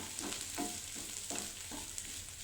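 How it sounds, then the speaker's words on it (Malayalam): Grated coconut frying in a pan with onion and garlic for a paneer butter masala, giving a steady close sizzle broken by regular stirring scrapes about every 0.7 seconds. "ഈ നാളികേരം നാളികേരം ഒന്ന് ചെറുതായിട്ടൊന്ന് ചുവന്ന് വരുവോളം നമുക്ക് വറുത്തെടുക്കണം"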